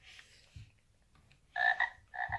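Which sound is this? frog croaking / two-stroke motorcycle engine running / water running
frog croaking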